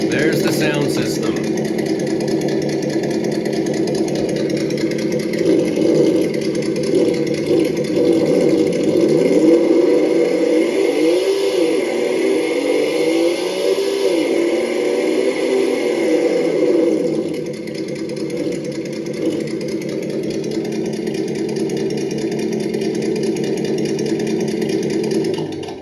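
A steady engine-like hum from a Traxxas TRX4 F150 1/10 scale RC truck's engine sound system, with a slight rise and fall in pitch midway, running continuously, with a person talking over it.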